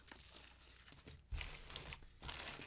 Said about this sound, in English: Get the plastic out of the way.